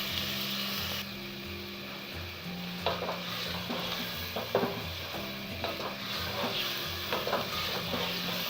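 Spice paste for aloo chicken sizzles and fries steadily in a hot pan, with a spoon stirring and scraping through it in repeated strokes, close and continuous with no talk.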